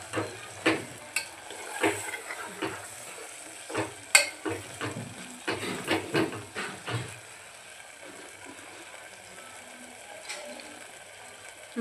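Mutton sautés in spice masala in a cooker, sizzling softly as a spoon scrapes and stirs in a quick irregular series of clinks and scrapes, then settles into a quieter hiss.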